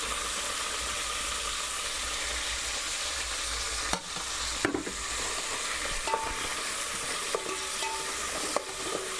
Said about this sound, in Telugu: ఇందులోనే మనం కట్ చేసి పెట్టుకున్న పచ్చిమిర్చి, కరివేపాకు, కొత్తిమీర, పుదీనా కూడా వేసుకొని ఒకసారి కలుపుకుందాం.